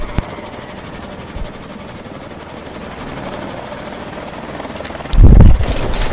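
Helicopter in the video game Call of Duty: Advanced Warfare, a steady rotor and engine drone throughout, with a louder, heavier burst near the end.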